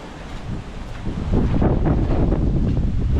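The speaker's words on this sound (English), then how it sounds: "Wow, the wind's still ripping." Strong gusty wind roars across the microphone outdoors in the aftermath of Hurricane Milton, near and buffeting, building in force about a second in and staying loud and turbulent throughout.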